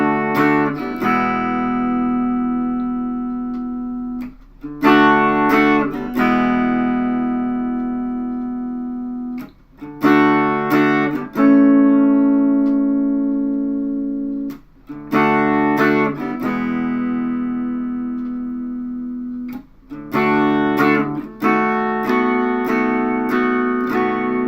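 An electric guitar plays an easy beginner's version of a song: loud, sustained chords ring out and decay, with short pauses and changes between them and no voice.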